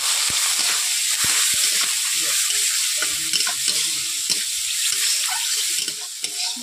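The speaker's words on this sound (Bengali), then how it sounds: "বন্ধুরা প্রথমে আমি কড়াইতে পেঁয়াজ দিয়ে দিচ্ছি।" Onions fry in oil in a kadai for a Bengali egg curry, a close, constant sizzle broken by repeated scraping stirs of a spatula.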